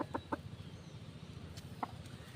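Chickens kept by a cousin at a backyard poultry yard cluck in short, sharp bursts, a quick cluster at first and then a lone cluck later, moderately near over a low rumbling background.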